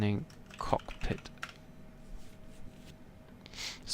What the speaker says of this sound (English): Sorry that you can hear me typing again.